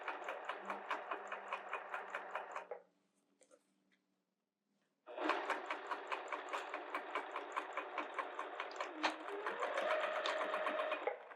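A sewing machine stitches through a fabric bag in close, rapid rhythmic bursts, running for a few seconds, pausing briefly, then resuming in a longer steady run.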